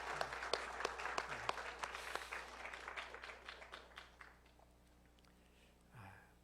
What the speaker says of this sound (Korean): 우리 성가대 수고했다고 박수 한번 격려하겠습니다